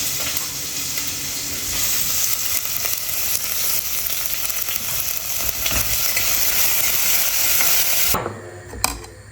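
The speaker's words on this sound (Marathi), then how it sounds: "नॉर्मल फोडणी दिलेली आहे कांदा परतवला" Onion sizzling in a cumin and mustard-seed tempering with bay leaf for spinach rice, with steady frying hiss and stirring scrapes throughout, close and fairly loud, ending in a brief clatter.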